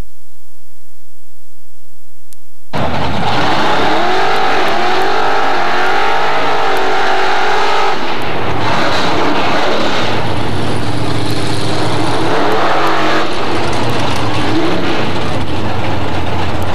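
Chevy II drag race car launching down the lane at a 1991 hot rod show, a sudden deafening engine roar that holds loud and raw for over ten seconds, then fades slightly as the car pulls away.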